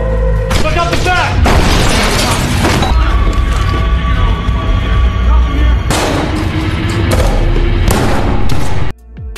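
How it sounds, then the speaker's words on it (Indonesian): A film scene erupts in loud, close gunfire, with bursts of shots and booming blasts that break off and return, and voices shout among them. "tiba-tiba Garrett datang, lalu menembak Marcus dan juga pengawalnya"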